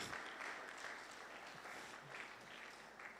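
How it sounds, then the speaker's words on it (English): An audience claps steadily at a youth conference in Kaduna State while waiting for a guest to reach a far stage; faint, distant, continuous applause in a large room. "Just keep clapping, keep clapping, keep clapping until he comes here."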